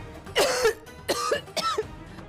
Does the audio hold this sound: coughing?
yes